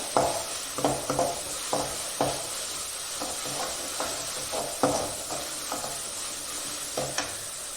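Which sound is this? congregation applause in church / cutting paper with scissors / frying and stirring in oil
frying and stirring in oil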